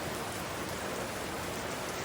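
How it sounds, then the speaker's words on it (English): Heavy rain pours down in a dense, even hiss of drops hitting surfaces nearby, steady and loud with no breaks or voices. "It's pouring down rain."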